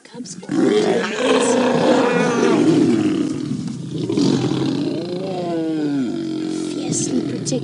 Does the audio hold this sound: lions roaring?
yes